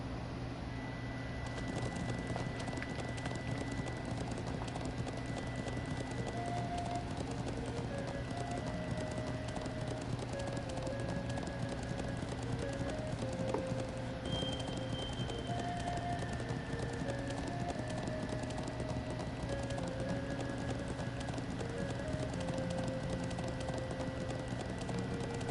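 Hooves galloping in the Trails of Cold Steel video game, a steady clip-clop rhythm running throughout amid game background music, sustained and moderately loud.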